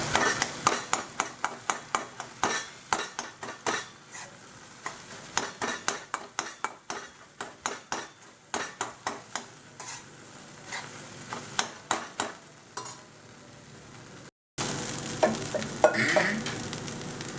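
A dosa spatula chops and scrapes semiya kichadi in a pan, giving a steady run of close metallic taps about twice a second over a soft sizzle.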